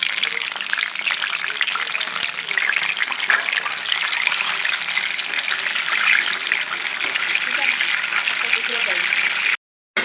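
Dhemse (tinda, round gourd) pieces fry in a pan of hot oil, giving a steady, dense sizzle that runs close and continuous before cutting off briefly at the end.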